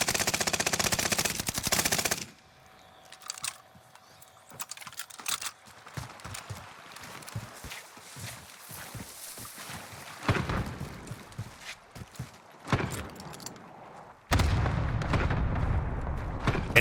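Bursts of automatic gunfire and scattered single shots ring out in a Call of Duty Warzone match, loud stretches at the start and end framing quieter, intermittent firing and clatter in between.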